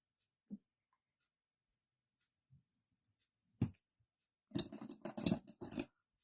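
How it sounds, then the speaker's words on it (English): The back of a bone folder burnishes paper with a few isolated soft taps, then a close, quiet burst of rubbing and scraping strokes near the end, with silence between. "you can burnish this with the back of the bone folder"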